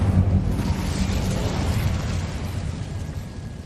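A fire spell cast in the Hogwarts Legacy video game gives a dense, whooshing roar of flame, loud and sustained for a few seconds, with a low rumble beneath and no talking over it.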